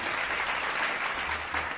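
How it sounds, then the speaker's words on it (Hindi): A talk-show studio audience bursts into a short, dense round of clapping, close and fairly loud throughout its brief length. "give a huge clap for me please"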